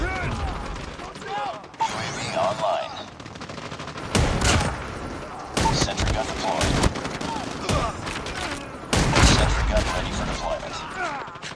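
Repeated grenade blasts and bursts of gunfire in Call of Duty Mobile crash out at irregular intervals, loud and sharp, with a voice talking intermittently between them.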